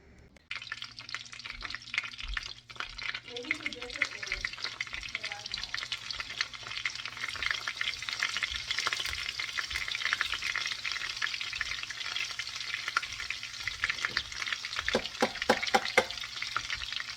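Asafoetida and ginger-garlic paste fry in hot butter and oil for pav bhaji, a continuous close hiss and sizzle with a few stirring clinks, no voices.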